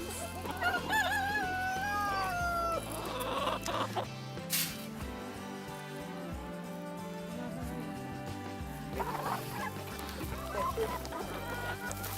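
Several chickens cluck and a rooster crows among them, busy overlapping calls close by with a steady background of barnyard noise.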